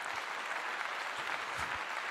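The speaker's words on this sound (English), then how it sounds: "Clap for him, clap for him." Applause from a crowd at a Colorado college football post-game gathering after a win over Arizona, soft and somewhat distant, a brief steady patter of clapping.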